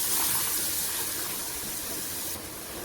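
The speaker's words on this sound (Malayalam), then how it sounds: "കുറച്ച് പിഴുപുളി പിഴിഞ്ഞ വെള്ളം ചേർക്കാം." Tamarind water squeezed from soaked tamarind pours into a pot for a banana stem rasam, a steady close splashing gush that runs throughout and softens slightly near the end.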